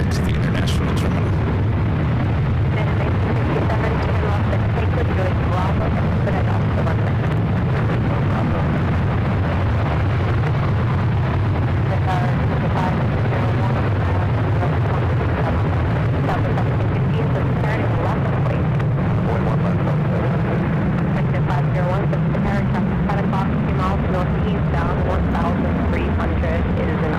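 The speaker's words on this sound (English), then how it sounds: "Alaska cleared for takeoff" Alaska Airlines jet taking off at San Francisco International, a long, loud rumbling roar of engines that builds and holds across the whole stretch, with voices talking over it.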